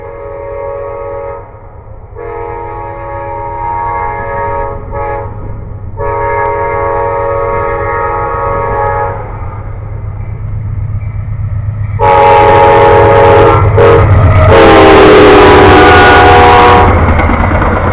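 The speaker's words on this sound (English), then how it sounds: "An Amtrak." An Amtrak train passes close by, its horn sounding in long harmonic blasts broken by short gaps, then a loud rush of wheels and cars swells and builds toward the end.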